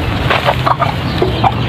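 Rhode Island hens clucking softly in a native egg-laying setting, several short scattered clucks and murmurs over steady farmyard background noise, no talking.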